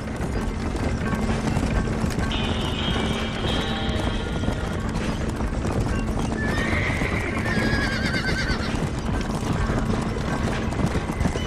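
Horses in the Red Dead Redemption video game gallop with steady, dense hoofbeats, and two whinnying neighs ring out over the running in a continuous, busy scene.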